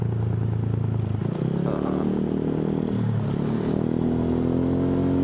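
A Honda Vario 150 scooter fitted with an F2Racing CL Long exhaust rides through a residential complex. It gives a steady, soft bass hum that rises gently as it accelerates, heard up close without talk.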